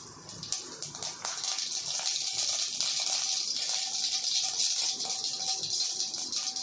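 Mustard seeds and cumin sizzle and pop in hot oil in a kadai while tempering for rasam, a steady loud crackling hiss with scattered sharp pops, close and continuous with no talk.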